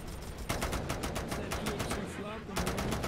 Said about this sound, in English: It's shooting out all the grenades.